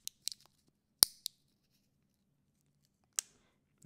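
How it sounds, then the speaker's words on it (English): A few sharp, crisp scissor snips through plastic wrapping on a pulse oximeter battery in a quiet room, clustered at first and then one more after a pause, close and clear. "Let me use my scissors."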